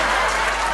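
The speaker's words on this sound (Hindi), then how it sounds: "जोरदार तालियां दीजिए दीपक जी को" An audience applauding poet Deepak at a comedy poetry event, a dense steady burst of clapping that fills the whole short moment.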